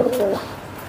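A racing pigeon gives a single short, low, throaty coo close by, fading into quiet room noise.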